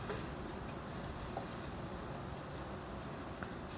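Steady rain falls at night, a constant soft hiss with faint scattered drips, even and unbroken throughout, with no voices.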